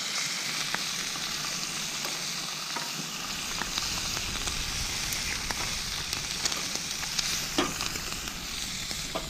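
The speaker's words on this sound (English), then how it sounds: "So, cooking the fresh squid here." Fresh squid fries in a pan with a steady, close hiss and fine crackle that runs through the whole stretch, with occasional louder pops and stirring sounds.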